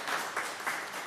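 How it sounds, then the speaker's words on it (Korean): A church congregation at a Sunday worship service claps in welcome, a brief, steady patter of many hands at moderate volume with a gently pulsing rhythm. "자리엔 없지만 박수로 환영하겠습니다."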